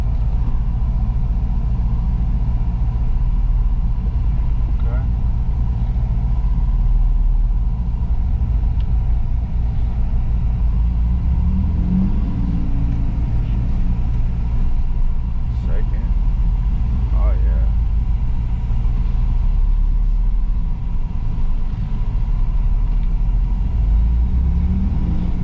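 Manual stick-shift car being driven at a dealer auto auction, a steady low engine rumble and road noise from inside the cabin that continues throughout, with a person talking over it.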